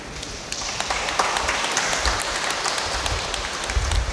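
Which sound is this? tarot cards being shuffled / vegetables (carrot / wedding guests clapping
wedding guests clapping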